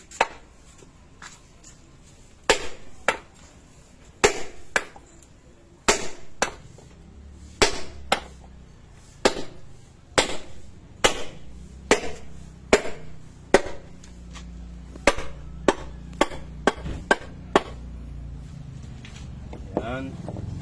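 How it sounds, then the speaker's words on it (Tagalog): Sledgehammer tapping a wooden block to drive out an engine cylinder liner, about twenty sharp knocks at an uneven, unhurried pace, close and clear over a low background hum. "gagamitan ng maso, pupukpukin dahan-dahan."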